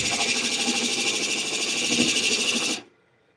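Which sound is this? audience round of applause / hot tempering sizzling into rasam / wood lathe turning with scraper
wood lathe turning with scraper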